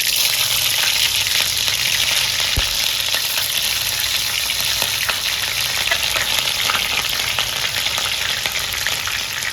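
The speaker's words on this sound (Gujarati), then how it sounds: "તો હવે નાખી દઈએ આપણે મરચાં." Mustard seeds and chilies sizzle and crackle hard in hot oil for a khaman tempering, a loud, steady hiss with sharp pops scattered throughout and no voices.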